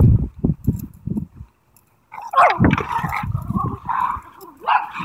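A pup barks during a hurricane, a quick run of sharp, close barks, then a brief pause followed by whining, yelping barks mixed with a voice.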